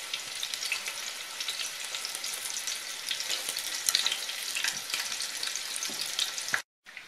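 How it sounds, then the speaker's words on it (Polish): Unrolled cabbage-roll patties sear in a pan, browning on all sides: a dense, even sizzle running close and loud before cutting off abruptly near the end. "I będę je teraz obsmażać na rumiano ze wszystkich stron."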